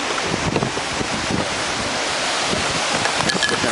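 Ocean waves churn in the wake behind a cruise ship, heard from the stern as a continuous loud wash and rush of surf mixed with heavy wind buffeting the microphone.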